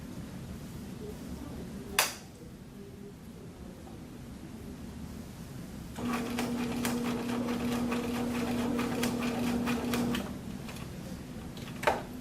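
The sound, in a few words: sewing machine stitching a corner seam in fabric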